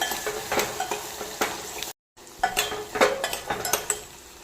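Steady scraping and clinking of a spoon stirring spices, including garam masala and sambar masala, in a pan over a soft sizzle, with a brief silent break midway.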